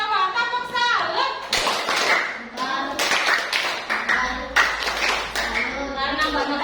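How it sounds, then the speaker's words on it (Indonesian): A group does the 'tepuk salut' salute clap in a classroom, several quick rhythmic bursts of hand claps mixed with speaking voices, loud and close. "Kita beri tepuk salut buat Mbak Nova. Tepuk salut."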